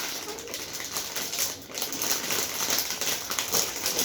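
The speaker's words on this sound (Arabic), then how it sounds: "مش عارفة تفتح كيس" A plastic bag crinkles and rustles as it is opened while unboxing toys, continuous crackly rustling close by throughout, with no speech.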